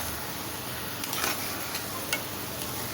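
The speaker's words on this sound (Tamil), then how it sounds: "2 நிமிஷம் மிக்ஸ் பண்ணி விட்டுக்கலாம்." A spoon stirs veg Manchurian balls made with bottle gourd through sauce in a pan, giving a soft steady sizzle with a few faint scraping clicks near the middle, close by and with no talking.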